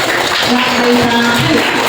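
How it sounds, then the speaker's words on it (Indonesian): Classroom group clapping together, dense applause rising over under two seconds, with some voices mixed in. "Kita beri tepuk tangan"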